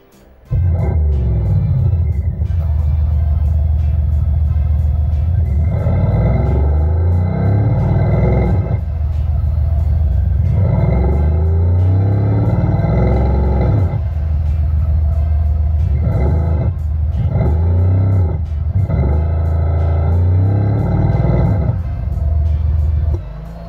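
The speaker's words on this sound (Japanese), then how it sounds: "では実際にエンジンをつけていきます。" A loud, deep engine rumble from a THOR exhaust speaker on a demo car, with the engine off and ignition on, repeatedly swells and surges as if being revved, continuous with no talking.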